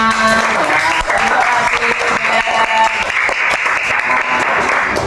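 Schoolchildren clap in a classroom after a group presentation on plant parts, loud continuous applause close by with children's voices mixed in.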